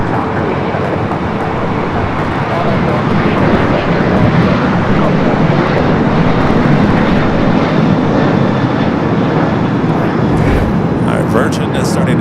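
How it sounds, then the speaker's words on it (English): A Virgin airliner taxis at Los Angeles International Airport (LAX), its jet engines giving a steady, broad roar that holds for the whole stretch, with some added rumble and hiss near the end. "Virgin is starting its taxi once again."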